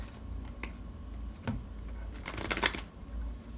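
A deck of tarot cards shuffled by hand up close, with a run of soft, papery riffles and flutters and a couple of sharper snapping bursts, over a quiet room with no talking.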